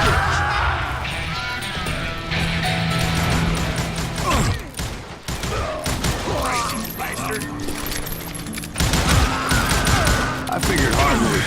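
Gunfire in Call of Juarez: Gunslinger comes as bursts of shots mixed with crashes and mechanical clatter. It is loud and chaotic and pauses briefly before starting up again.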